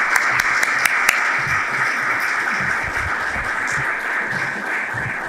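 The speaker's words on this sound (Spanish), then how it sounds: "Les pido un fuerte aplauso para el autor." Warm audience applause for an author at a public talk in Zaragoza, a full steady round of clapping with a few sharp individual claps standing out early.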